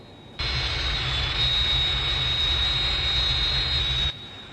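A target-towing aircraft drones past in a steady engine roar with a whining high tone, fading in sharply and cutting off after about four seconds, heard alone.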